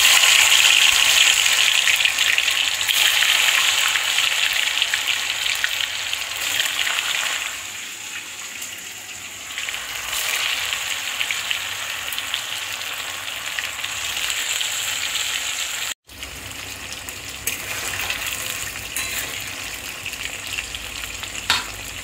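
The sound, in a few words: chitol fish balls frying in hot oil in a kadai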